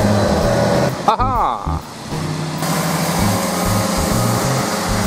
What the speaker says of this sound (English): And more tourist buses.